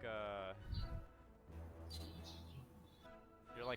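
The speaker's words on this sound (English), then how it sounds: "I'm just hearing like birds chirping." Birds chirping picked up through a game player's microphone, thin high tweets recurring across a few seconds, fairly faint and close, with a voice speaking over them.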